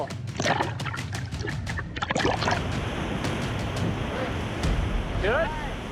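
A raft pushes through class 5 whitewater rapids, rushing water roaring loud and close, paddles splashing in quick strokes at first, with shouted voices and excited calls over the churn.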